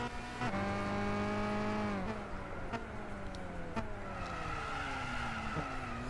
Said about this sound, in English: Smoking the tires.